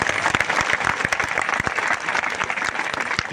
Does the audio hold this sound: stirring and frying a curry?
no